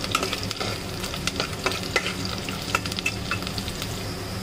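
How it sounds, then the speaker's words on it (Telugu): Onions fry in a pan for a snail curry, giving a steady close sizzle with frequent scraping stir strokes and a few light clinks, continuous and moderately loud. "ఆనియన్ కొంచెం బ్రౌనిష్ కలర్ వచ్చేదాకా మనం"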